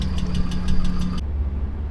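An old automatic car's engine runs steadily at idle, a low continuous rumble with a faint rhythmic ticking that drops away partway through while the low hum carries on.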